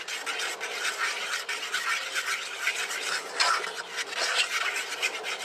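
A spoon stirs homemade potato soup with condensed milk in a pot, giving a steady scraping and rubbing against the pot that runs continuously at moderate, close level with no talking.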